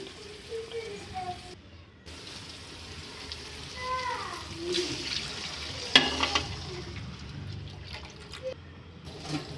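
Water is poured into a hot pan with oil for upma, a semolina dish, bringing a sudden surge of sizzling and splashing over quieter stirring and drips, with a faint voice now and then.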